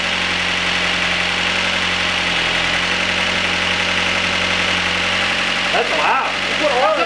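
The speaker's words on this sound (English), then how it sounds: "It's loud because the lifters aren't prime yet" A Mazda Miata engine runs loud at a steady idle with its lifters not yet primed, giving a rough, diesel-like clatter throughout, with voices talking near the end.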